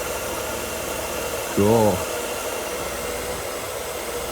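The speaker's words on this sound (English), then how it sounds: "Got the air pump going, you can hear it." A steady mechanical whir from the engine-driven air pump on a Mercedes W124 with an M103 engine runs continuously and up close, with a brief word spoken over it.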